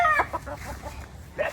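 A White Kelso gamefowl rooster gives a short run of close, clear clucks, a few quick throaty notes in under two seconds.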